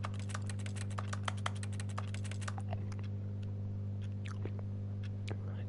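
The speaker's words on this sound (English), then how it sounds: "I'm typing on my invisible computer" Rapid keyboard clicks from The Stanley Parable video game rattle off in a dense burst, then thin to scattered keystrokes over a steady low electrical hum.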